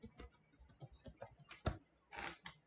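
Keys clatter on a computer keyboard in an uneven burst of taps while a Node.js download search is typed, close and fairly quiet, with a louder cluster near the end.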